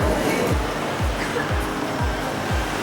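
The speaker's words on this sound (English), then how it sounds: "I'm standing across from the ocean, or actually I should say the sea" Sea waves washing onto the shore at Brighton, a loud, close rush of surf with regular low swells roughly every half second, alone without talk.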